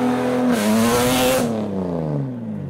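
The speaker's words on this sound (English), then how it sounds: "That looks like a Zenki S14 making a lot of sounds." A Nissan Zenki S14 revs hard at a car show, its engine note climbing and holding loud before falling away as the revs drop, with no talk over it.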